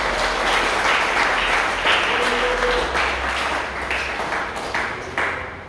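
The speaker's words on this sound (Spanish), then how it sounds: "Demos un aplauso al Señor." Congregation applauding in a church, a dense steady wash of many hands clapping throughout at close range, with a few brief tonal pings and low rumble underneath.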